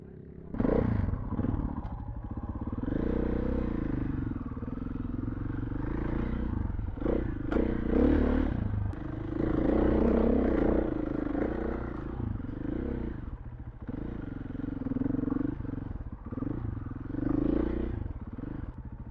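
A 2RACE X-Venture motorcycle riding a rough dirt track: a continuous close engine drone with repeated rises in revs, mixed with rattling clatter and scraping from the bumpy ground.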